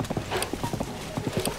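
Enemy riders on horseback in The Legend of Zelda: Tears of the Kingdom, their hooves beating out a quick, close clip-clop rhythm, loud and unbroken through the short stretch.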